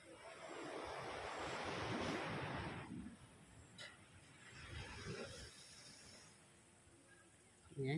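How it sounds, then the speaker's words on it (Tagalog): Strong ocean surf at a beach resort in Lobo, Batangas roars in a broad wash, a big wave crashing then receding before another swells, with gusty wind buffeting the microphone. "Medyo malakas ang alon."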